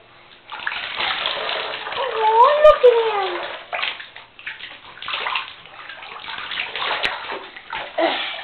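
Water sloshes and splashes continuously in a bath, fairly close, while a voice and an adult voice talk over it.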